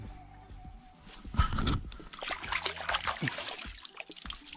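Clean water used to wash freshly cut sugar cane trickles and splashes on a farm, close and uneven, with sloshing bursts and a possible footstep or two mixed in.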